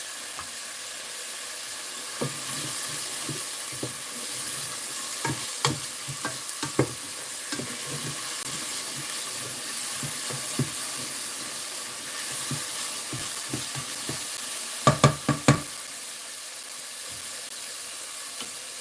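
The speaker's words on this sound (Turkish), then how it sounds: "Yağımız kavrulduktan sonra şöyle salçamızı ekleyeceğiz." Tomato paste hissing in hot browned oil, a steady sizzle in a pan with sparse light taps and scrapes of a utensil, and a short quick cluster of clinks near the end, close and even, without speech.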